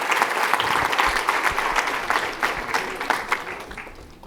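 Dense audience clapping for a keynote speaker fills a hall, loud and sustained with scattered sharper claps, easing slightly toward the end.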